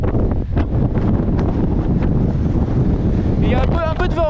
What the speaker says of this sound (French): Il y a un peu de vent, hein